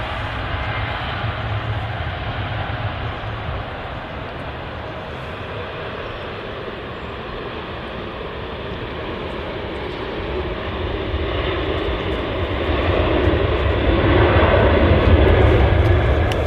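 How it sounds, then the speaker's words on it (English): An Emirates Boeing 777 taxiing to the start of the runway at Manchester Airport, its steady loud jet engine roar holding throughout and swelling slightly near the end, with no voices over it. "Emirates triple taxiing all the way to the start of the runway."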